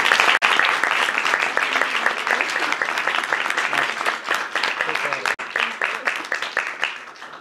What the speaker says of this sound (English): Give her another round of applause, will you,